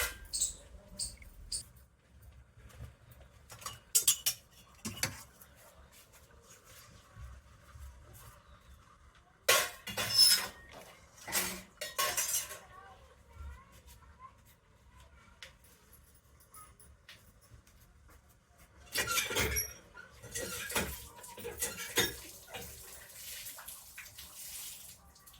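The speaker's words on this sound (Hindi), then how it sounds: "तो यहाँ पर बर्तन भिगो देते हैं।" Metal utensils being set to soak in a home kitchen, with intermittent bursts of running water and clinking, separated by quiet stretches, and no speech.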